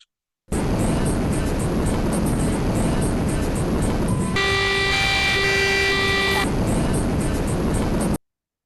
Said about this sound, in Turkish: İşte bu duymuş olduğumuz ses sol sesi arkadaşlar.